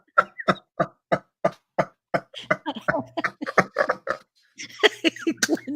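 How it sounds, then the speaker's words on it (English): A man coughs hard in a long run of about a dozen sharp, evenly spaced coughs that grow rougher and more ragged toward the end, loud and close with no talk. "just coughed up a lung"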